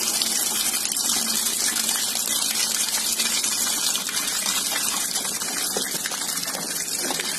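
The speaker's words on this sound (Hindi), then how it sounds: "अब हम इसे पानी भर लेते हैं" Steady gush of tap water pouring into a washing machine tub, continuous and fairly loud from start to finish with no talking over it.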